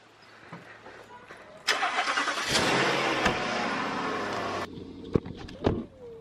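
A car's engine cranks and catches, then runs and revs for a few seconds as it pulls away, fairly close. Some soft clicks and thumps follow after it quiets.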